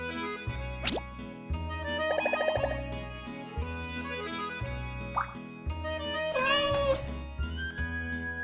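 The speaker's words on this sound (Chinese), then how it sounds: "哇，橘猫，啊。" An orange cat gives several meows seen through a window, short rising and falling calls spread across the stretch, fairly close and clear over a low background hum with no talk.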